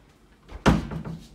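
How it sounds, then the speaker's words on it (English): A door is shut once with a solid, close thud, followed by a short muffled rattle as it settles, with no talking. "we can now open and close this door"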